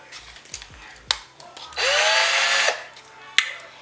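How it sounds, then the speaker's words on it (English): Power drill used as a whisk for whipped coffee whirs in one loud burst lasting under a second, preceded and followed by short clicks and handling knocks. "So first you're going to need a drill,"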